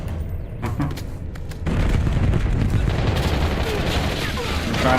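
Video game gunfire in a ranked match: a few sparse shots early, then sustained loud automatic fire and booms that fill the rest, with voices faintly mixed underneath.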